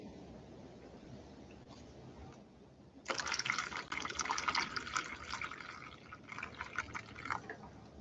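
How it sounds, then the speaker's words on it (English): Water emptied out of a container during a material-drying process: a faint trickle first, then a sudden loud, splashing pour that runs steadily for several seconds before easing slightly. "We have to empty the water."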